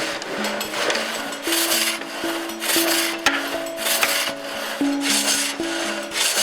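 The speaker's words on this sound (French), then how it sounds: "Il faut en moyenne 7 minutes et demie pour scier une longueur de 1 mètre." A water-powered frame saw at a hydraulic sawmill in Isérables rasps through a log in a steady back-and-forth rhythm, each stroke a broad scraping surge, with faint mechanical tones underneath.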